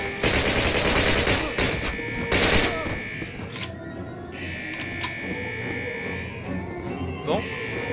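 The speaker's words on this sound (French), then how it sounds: "Oh non, mais de l'alarme!" Alarm blaring in a Call of Duty level set at a dam, a loud continuous electronic tone with bursts of automatic gunfire early on and a voice speaking over it.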